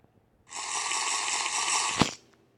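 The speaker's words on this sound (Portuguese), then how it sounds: "Aí quando você beber água," Minecraft drinking sound, a steady hissing gush of water lasting about a second and a half, ending in a short sharp click, close and fairly loud with no talk.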